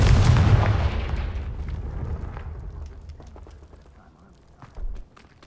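Confringo fire spell blasts in the Hogwarts Legacy video game, a loud booming burst at the start that rumbles and decays over several seconds, followed by a smaller thud near the end.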